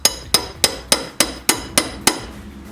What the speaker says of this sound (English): you might have to tap them in with a little hammer or a Wonder Bar